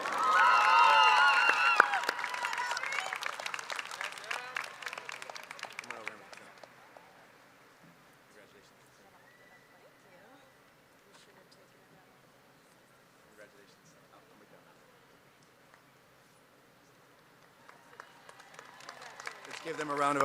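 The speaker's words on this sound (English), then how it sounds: "Give them a round of applause as well." Crowd applause for school board award recipients at a high school graduation ceremony. It is fairly loud for the first six seconds, then thins to a quiet hall murmur and swells back near the end.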